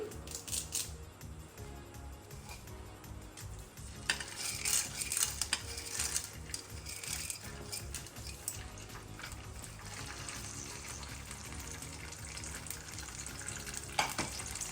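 Mustard seeds, green chillies, curry leaves and chana dal sizzling in hot oil for an upma tempering, a steady close crackle with spoon scrapes and clinks against the pan throughout.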